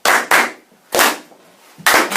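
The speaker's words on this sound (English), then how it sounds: "Clap it up." A live show audience claps along in loud, tight unison, with sharp bursts of applause in a stop-start rhythm and short gaps of fading room echo between them.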